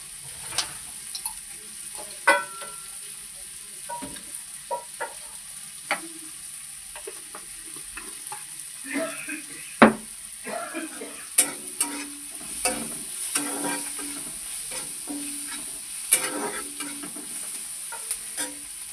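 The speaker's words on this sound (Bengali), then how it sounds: "এটা একটু ভাজা ভাজা হলে শাকটাকে দিয়ে দেব।" Spices and turmeric fry in a pan ahead of the greens, giving a soft sizzle with scattered sharp ticks and scrapes of stirring, close and steady with no voices.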